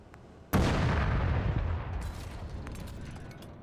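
A single heavy tank cannon firing a high-explosive shell in ArmA 3: one sudden loud boom followed by a long rumbling decay that fades over a few seconds.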